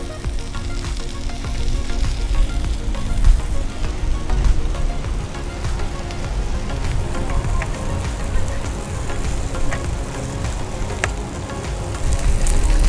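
Panko-crusted bacon sizzles and crackles steadily on a hot Blackstone flat-top griddle, a dense continuous frying hiss with scattered pops throughout.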